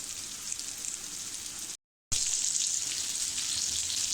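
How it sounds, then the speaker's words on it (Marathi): Saundale fish frying on one side in a pan: steady, hissing oil sizzle heard close, broken by a short gap of silence before it resumes just as loud. "आपल्याला अशाच प्रकारे ते मासे छान असे एका बाजूने फ्राय करून घ्यायचे आहेत"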